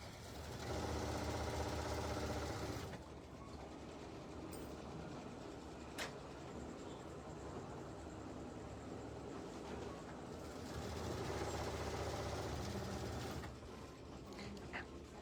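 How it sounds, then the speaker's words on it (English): A sewing machine stitches a quilt block from top to bottom for a Southern Stars block-of-the-month quilt, a steady mechanical whir running most of the time, with a brief pause and a louder stretch later on. "So I'm just gonna sew from top to bottom."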